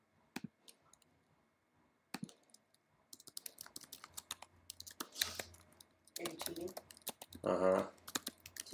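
Fast, irregular keyboard typing clicks near the mic on a computer keyboard during a trading card box break, with brief talk and louder bursts of handling noise toward the end.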